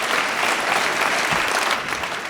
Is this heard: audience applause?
yes